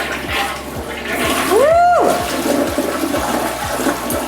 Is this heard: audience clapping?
no